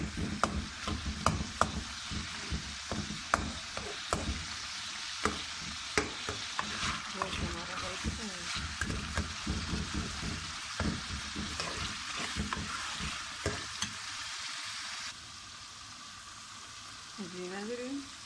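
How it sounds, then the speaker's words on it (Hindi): Mutton sizzles and fries in a karahi for Peshawari karahi, with a continuous hiss broken by repeated sharp scrapes and clanks of a spoon stirring against the metal, the frying quieting a little near the end. "इसको फ्राई कर लेंगे।"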